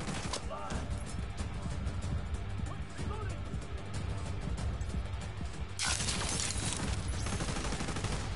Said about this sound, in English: How is he shooting me?